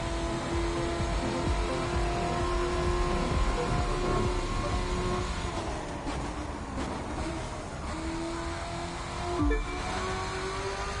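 A steady, loud roar from a mid-engine Corvette race car in The Crew 2 during a street race in Chicago, holding a constant drone with slight pitch shifts and no voices over it.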